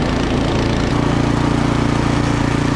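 A snowblower's small engine runs steadily during a Wisconsin snowstorm, driving the auger with a loud, constant droning hum close by and no pauses.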